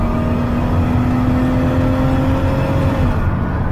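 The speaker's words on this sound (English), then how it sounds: "Pops up to close to 70 miles an hour, good acceleration." Heard from inside, a 2019 Dodge Caravan SXT wheelchair van accelerates on a highway toward about 70 mph, giving a loud, steady engine and road drone with a slowly rising tone and no talk.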